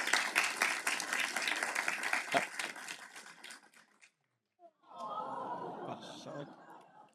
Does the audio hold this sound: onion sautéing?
no